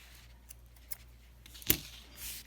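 Single snip of scissors cutting crochet yarn while a left-handed stash-busting mug rug is finished, one sharp close click near the middle with faint rustles around it.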